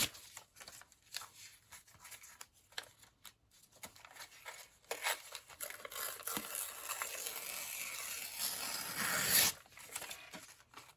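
Paper being torn by hand for a junk journal, close, ragged ripping and rustling in several short pulls, building to a longer tear near the end, quiet and alone.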